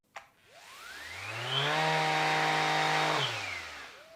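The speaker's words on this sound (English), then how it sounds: "I've got both sanders set to maximum speed and I want to test how quickly they start and stop." A random orbital sander, from a comparison of a Rutlands and a Mirka DEROS set to maximum speed, starts with a click. It spins up to a loud, close whirring hum, holds for over a second, then winds down and stops.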